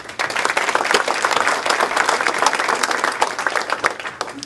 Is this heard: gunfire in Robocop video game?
no